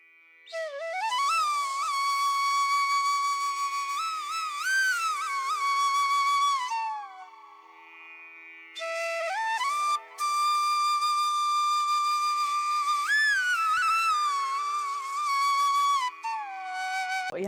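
A pressure cooker boiling large potatoes on a gas stove lets out long shrill whistles, two sustained bursts with wavering pitch separated by a brief pause, loud and close with no talking.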